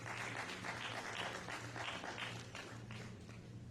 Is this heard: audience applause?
yes